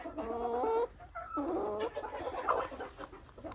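A dwarf Cochin hen clucks close by in a few drawn-out, complaining calls, followed by quieter murmurs and soft rustling.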